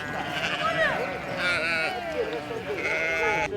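A flock of ewes bleats repeatedly, the overlapping wavering calls near and fairly loud as the herd leaves for pasture after milking in a Romanian village, with voices talking underneath.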